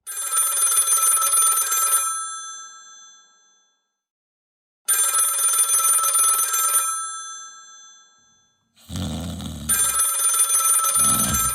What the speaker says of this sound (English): Dick, your phone's ringing